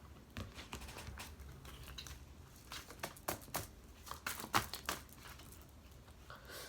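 Rapid papery riffling and soft slaps of cards being shuffled, a few crisp bursts close by, with no talking.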